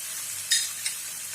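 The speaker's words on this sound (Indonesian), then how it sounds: "Seperti biasa saya akan melakukan penumisan dengan teknik menambahkan air." Spicy potato sambal is stir-fried in a pan with a little water added, giving a quiet steady sizzle and two brief brighter splashes of stirring, with no voices.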